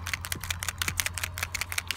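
Rapid, steady rattling clicks of a paint marker being shaken up close, with a low hum underneath.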